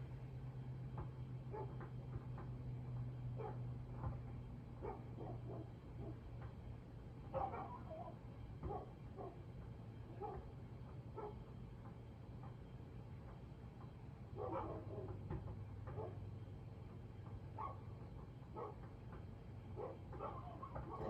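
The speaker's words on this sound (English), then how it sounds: "Neighbor dogs are having a fit." Dogs bark and yip in scattered bursts some distance away, over a steady low hum.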